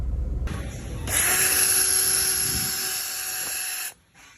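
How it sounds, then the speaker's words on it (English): A drill spinning a wire brush against a Ford Transit wheel hub during a brake job whines loudly and steadily for about three seconds, starting abruptly and cutting off sharply, with a rising tone as it spins up. "Just used a wire brush on my drill here."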